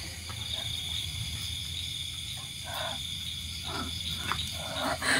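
Insects chirp and buzz in steady high layers at night, with scattered nearby rustles and faint bursts of movement over a constant low hum.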